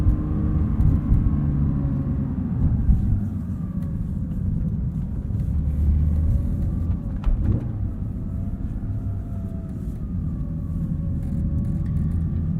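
A 2022 Porsche 911 GT3 with manual gearbox drives with its exhaust set to a quieter mode, giving a steady, toned-down low engine rumble from inside the cabin with no speech.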